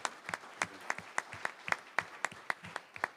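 A small audience at a city council reorganization meeting claps sparsely, with distinct individual claps in a steady, uneven rhythm rather than a full roar, close and fairly faint.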